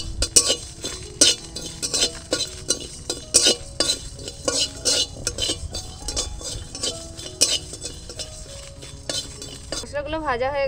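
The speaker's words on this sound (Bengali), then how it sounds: "গোটা ধনে নিয়েছি, গোটা জিরে আর গরম মশলা, গোটা গরম মশলা, এলাচ, দারচিনি, লবঙ্গ, দুটো শুকনো লঙ্কা একসাথে শুকনো কড়াইতে ভেজে নেব" A spatula stirs whole coriander, cumin, cardamom, cinnamon, cloves and two dry red chillies in a dry wok, scraping and clinking in a steady uneven rhythm with light rattling, and a voice briefly at the end.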